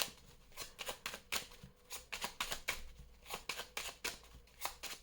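A deck of Béline oracle cards is shuffled by hand, a close, quiet run of sharp riffling snaps and soft slides in irregular bursts, with no talking.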